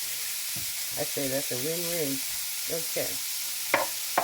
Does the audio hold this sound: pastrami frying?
yes